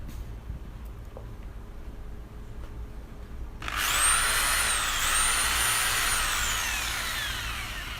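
A repaired concrete hammer drill, reassembled with fresh carbon brushes, is switched on for a test run: silence, then a loud, steady motor whine with a grinding hammering roar that holds close up for several seconds.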